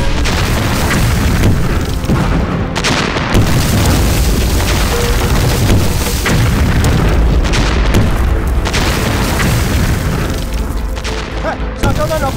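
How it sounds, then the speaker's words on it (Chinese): Heavy artillery barrages and explosions from a war action film about Japanese artillery troops, with dense continuous booms and blasts rolling throughout, loud and close, with shouted voices mixed in. "日本人の炮兵連隊、開炮"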